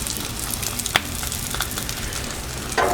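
Canadian bacon sizzles on a Blackstone flat-top griddle as a steady close frying hiss, with a sharp clink near the start and a louder burst of sizzle at the end.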